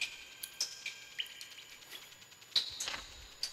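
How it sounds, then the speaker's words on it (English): Water drips in a cave in the video game Scanner Sombre, falling as scattered, irregular plinks that echo faintly, with a brighter drop near the end. "But this just sounds like drip."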